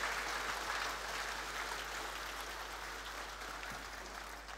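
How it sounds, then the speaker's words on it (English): Sustained applause from an audience at a CloudFest conference stage session, a steady dense wash of clapping that holds at an even, fairly loud level for the whole stretch with no voices on top. "Big applause from the audience."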